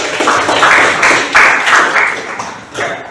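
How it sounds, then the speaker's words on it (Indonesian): Audience applause in a religious studies classroom session, a burst of clapping lasting about three seconds, fairly loud and close, with uneven rhythm and no talk over it. "kita beri aplaus kepada Fadlannya"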